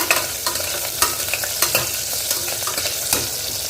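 Small sambar onions (shallots) sautéing in a pan, a bright continuous sizzle with frequent sharp stirring clicks and scrapes in an irregular rhythm, close and fairly loud.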